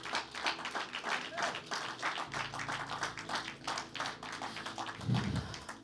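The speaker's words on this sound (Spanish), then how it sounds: "¿Cuánto le dan un aplauso al Señor" Applause from a church congregation at a men's conference, a steady wash of many hands clapping that continues throughout, with a brief low thump near the end.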